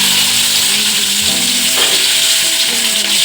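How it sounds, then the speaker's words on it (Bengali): Flat beans stir-fried in hot oil for Bengali shukto, after cauliflower has been sautéed in the same pan: a loud, steady sizzle with occasional stirring scrapes, close up and with no talking. "তো আমার ফুলকপি কষানো হয়ে গিয়েছে এই তেলের মধ্যে আমি শিমগুলো কষিয়ে নেব"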